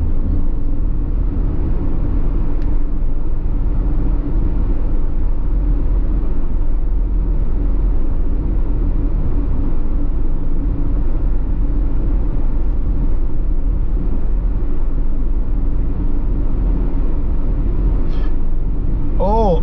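A car drives along Highway 2000 in Jamaica on the May Pen to Williamsfield leg with a steady, loud road and engine rumble throughout, and a faint voice is briefly heard near the end.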